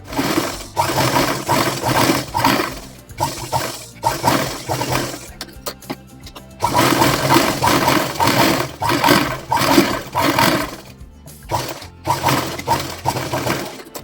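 A sewing machine stitches fabric pieces into rounded seams in bursts of rapid mechanical whirring, close and fairly loud, pausing briefly between runs.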